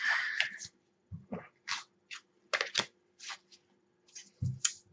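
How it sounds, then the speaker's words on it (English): Tarot cards are shuffled in a series of close, crisp riffling and slapping bursts with short pauses between them. "Focus on your question while I shuffle the cards"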